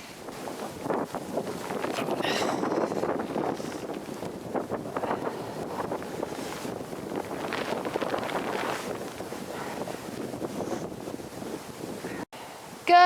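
Strong wind buffets the microphone at the shore while waves wash in beneath it, a steady rough rush with gusty surges and brief drops near the end.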